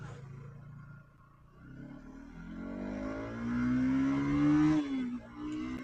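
A Bajaj Pulsar NS 200 motorcycle pulls away in first gear, its engine note climbing steadily in pitch and loudness as it revs hard, then dropping sharply at a shift before building again, close and alone.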